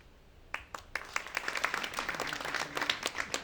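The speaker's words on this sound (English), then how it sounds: "I want to make sure that we clap after all you guys" Audience claps at a blockchain networking event, starting with a few scattered claps and swelling into steady applause from a modest crowd.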